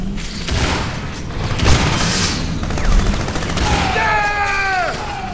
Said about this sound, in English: Give me some rapid fire!